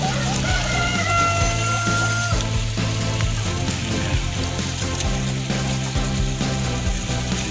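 Shamo chickens, one rooster and two hens, cluck repeatedly and the rooster crows, with busy overlapping calls from several birds nearby and steady background noise.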